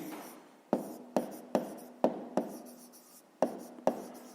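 Numbers being written by hand on paper during a fifth-grade maths exercise, heard as a series of about eight sharp pen taps and short strokes at an uneven pace, close and quiet, with no talk.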